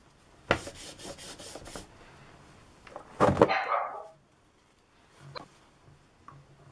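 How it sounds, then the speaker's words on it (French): A small dog of about seven kilos barks in a quick burst of several sharp yaps, then gives a louder rasping bark, followed by quieter scattered sounds and near silence. "Le chien n'est pas content."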